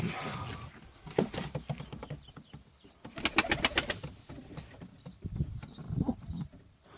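Adana pigeons, including a young male and a female, kept in a box, giving repeated soft close coos and rustling over a low background, with a quick run of wing-flutter taps in the middle.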